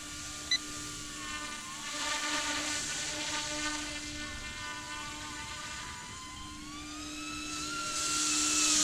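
An Eachine E200 PRO SH-60 RC helicopter flying circles over a park, its faint, high whirring rotor and motor whine rising and falling in pitch as it loops around, growing slightly louder near the end.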